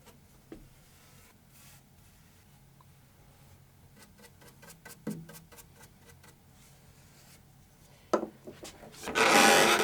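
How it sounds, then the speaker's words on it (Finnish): Edges of an old, imperfect wooden table being sanded by hand, giving soft, repeated rasping strokes at moderate distance, with a louder burst of scraping near the end. "joten pelkkä reunojen hionta sai riittää"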